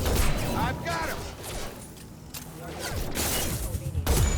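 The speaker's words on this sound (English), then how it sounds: "there's gunfire" Bursts of gunfire crackle through a combat scene in Mass Effect 2 Legendary Edition, loud volleys at the start and end with a quieter stretch between.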